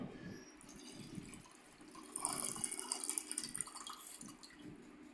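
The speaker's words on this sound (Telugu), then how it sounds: "గ్లాస్లోకి కొద్దిగా వాటర్ వేసుకోవాలి" Water trickles and splashes softly into a glass while kulki sherbat is being made. It is faint and steady, swelling a little midway through the pour.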